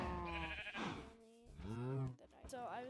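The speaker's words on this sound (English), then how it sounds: "I'm gonna show all these sheep because they're here and I need wool." Sheep in Minecraft bleating in several drawn-out, wavering calls that overlap and follow one another closely, loud and near, with game sounds and brief speech-like noise mixed in.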